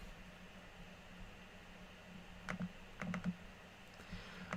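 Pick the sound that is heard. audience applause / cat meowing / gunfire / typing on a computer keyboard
typing on a computer keyboard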